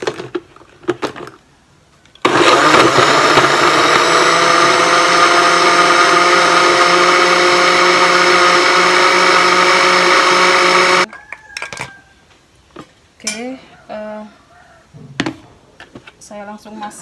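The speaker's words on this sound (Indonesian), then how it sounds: "Kita langsung blender." A blender roars steadily for about nine seconds, loud and close, mixing pudding ingredients, with brief speech and kitchen clatter before and after.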